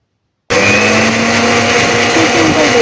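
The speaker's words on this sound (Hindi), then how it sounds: "अच्छे से इनको ग्राइंड कर लें।" A blender grinds mango mojito ingredients with sugar, starting abruptly after a short silence and running loud and steady with a constant motor whir and churning rattle, no talk over it.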